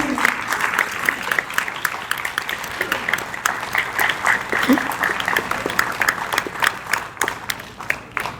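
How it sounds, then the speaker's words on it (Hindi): Audience clapping for a singing troupe on a stage show, a thick continuous wash of applause from a crowd, steady and fairly loud, with scattered voices mixed in. "चलिए तालियां बजा दीजिए"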